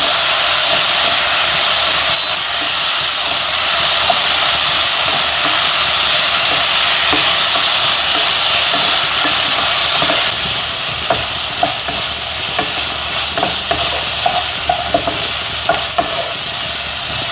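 A sauce of tomato sauce and vinegar for chilli chicken is stirred and fried in a pan, giving a loud, steady sizzle throughout with the scrape of the spoon and small pops standing out toward the end.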